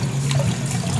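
Water runs steadily into a toilet tank from the household supply line during a leak repair, a constant close rushing fill with no voices over it.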